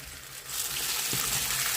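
Liver sizzles steadily in hot rendered fat in a pan, a close, dense frying hiss that swells after the first half second and holds even, with no voices.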